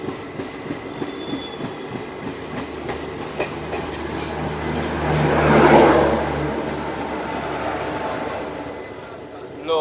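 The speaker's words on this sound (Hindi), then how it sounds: "तो यहाँ पर अब ओवरटेक होने वाला है इस ट्रेन का।" Passenger train on the Kathgodam–Howrah Bagh Express route being overtaken on parallel track: steady rumbling rail noise with clattering wheels, swelling loud around the middle as the other train passes close by, then easing, with a brief wheel squeal.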